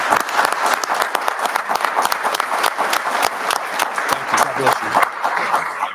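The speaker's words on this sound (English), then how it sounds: "Let's give these people a round of applause." Audience at a board meeting applauds veterans standing to be recognized, a dense steady burst of many hands clapping for about six seconds, loud and close, with some voices mixed in.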